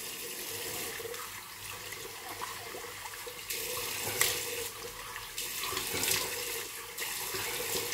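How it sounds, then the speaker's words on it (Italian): Hot water runs steadily from a tap into a sink before shaving, a continuous moderate splashing stream that shifts slightly in force as hands move under it. "Acqua calda, bagniamo un po' il viso"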